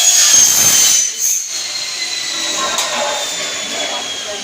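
Agricultural thresher machine running at speed, a loud steady high-pitched mechanical whine and rattle close to the microphone, continuous for several seconds with a brief dip.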